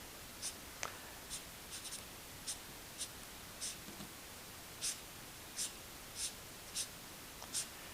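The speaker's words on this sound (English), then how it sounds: "lay down the outline of the grass here and play with that with the pen" Chartpak markers drawing grass outlines on paper for a coloring landscape, a quiet series of short, separate scratchy strokes spaced about half a second apart, close up with no talking.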